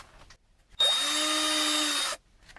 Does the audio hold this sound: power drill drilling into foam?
yes